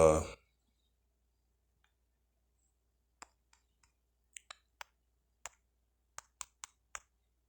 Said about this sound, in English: let's type in